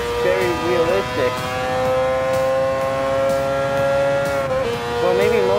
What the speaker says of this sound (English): that engine sound is very realistic